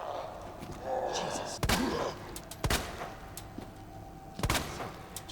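Gunshots crack out in a zombie shooter video game, three sharp separate blasts spaced a second or two apart over faint background game sounds.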